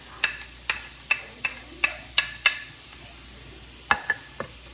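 Carrots, peas and green onion sautéing for chicken fried rice, heard as a soft steady sizzle broken by about ten sharp, distinct scrapes of a utensil against the pan, spaced irregularly, close and without talk.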